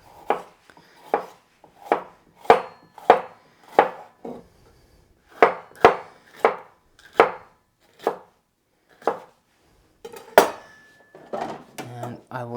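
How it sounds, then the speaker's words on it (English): Knife slicing straight across bell peppers on a cutting board, a steady series of about eighteen crisp, close chops in short runs with brief pauses between them. "So I'm just gonna do some slices. I'm gonna cut it all the way across."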